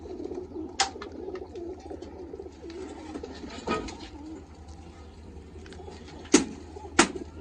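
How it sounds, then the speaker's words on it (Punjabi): Low, murmuring coos of desi pigeons run steadily through the background, with a few sharp knocks or clacks breaking in. "ਬਹੁਤ ਸੋਹਣੀ ਕਬੂਤਰੀ"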